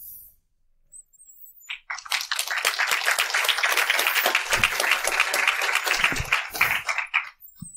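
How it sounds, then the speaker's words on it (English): A conference audience applauds after a talk, a dense burst of clapping that swells quickly, holds for several seconds and fades out. "Applause without cue."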